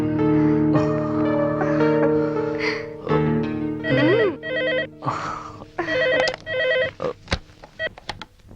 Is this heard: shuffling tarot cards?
no